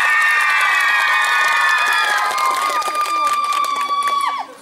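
An audience at an outdoor karaoke contest on a village square cheers with rising and falling whoops and shouts, with some applause, for about four seconds before it cuts off.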